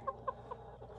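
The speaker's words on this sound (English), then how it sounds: "this chicken is just something" A backyard rooster lets out three quick, faint clucks spaced evenly apart, followed by a softer murmur, quiet and somewhat distant against a low background hum.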